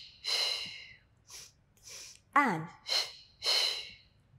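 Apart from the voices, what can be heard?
breathing during a Pilates mat exercise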